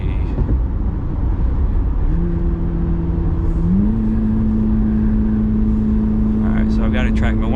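A Corvette C8 Z06 in track mode accelerates, its engine note climbing in a steady hum that steps up in pitch as it pulls, heard from inside over constant road and wind noise.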